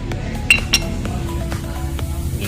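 A metal washer falls and clinks twice in quick succession during work on a Nissan 350 with a broken pressure plate, two sharp bright taps over a steady low workshop hum, with faint ringing ticks following.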